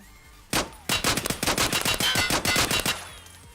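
A full-auto gun in a video game fires a rapid burst: one opening shot, then a fast continuous string of loud cracking rounds lasting about two seconds, close and dominant with no talk.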